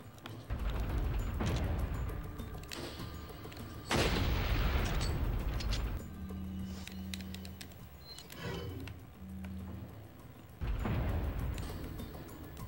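Heavy gunshots boom in an elephant hunting game, a few loud blasts spaced several seconds apart with long decaying tails and a low mechanical hum between them.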